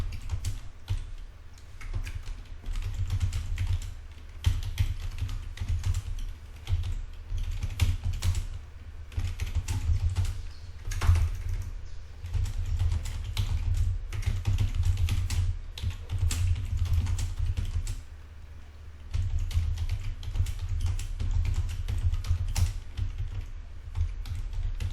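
Rapid typing on a computer keyboard, a dense stream of clicking keystrokes with brief pauses, close and moderately quiet, no talking.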